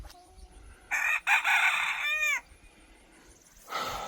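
A rooster in a backyard chicken run crows once loudly and close by, a long drawn-out call that rises and then falls away, with quiet background before and a brief noise afterward.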